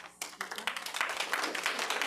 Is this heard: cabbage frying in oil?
no